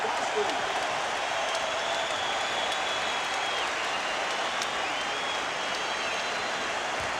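Basketball arena crowd in the 1984 NBA playoffs, Celtics versus Knicks Game 6, roaring steadily during a timeout, a dense continuous wall of cheering and noise filling the building with no break.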